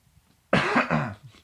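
A single man's cough bursts out of near silence, a close, sharp double-pulse cough lasting under a second before trailing off.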